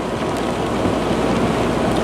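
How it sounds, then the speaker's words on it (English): Steady rain drums on a moving car on a drive toward Bend, Oregon, a dense, even hiss that stays loud throughout with road and wind noise mixed in and no talk. "Oh, more rain."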